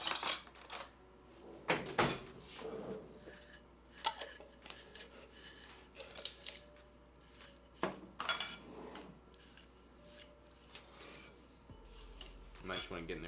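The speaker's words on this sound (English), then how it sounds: "And then you just mix all this up. I'm gonna use a fork." Fork scraping and clinking in a bowl while coconut cream bar dough with melted coconut oil is stirred, giving irregular scrapes and knocks with a few louder clatters and bits of soft movement noise in between.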